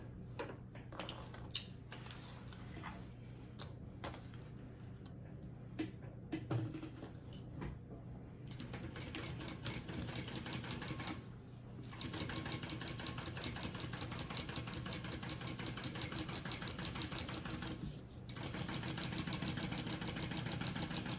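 A sewing machine stitches the slip pocket lining of a crossbody bag, a quiet rapid mechanical whir broken by short pauses and small clicks, running near and faint.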